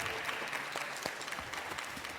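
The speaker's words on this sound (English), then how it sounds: "Well, round of applause." Steady applause from an audience at a women and veteran owned business summit, a dense continuous patter of clapping that holds at an even level for the whole stretch.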